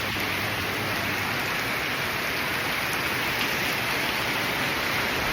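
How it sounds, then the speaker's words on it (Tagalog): Heavy rain pouring steadily during a road trip, a dense, even hiss of drops hitting surfaces close around, continuous and loud with no speech. "Naista kami sa ulan."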